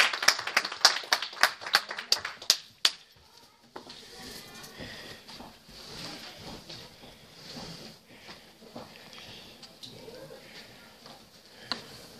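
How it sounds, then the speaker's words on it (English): A burst of hand clapping from a small church congregation for a Sunday school teacher, quick and loud for a few seconds, then fading out into a room with people talking. "let's give our Sunday school teacher a hand clap"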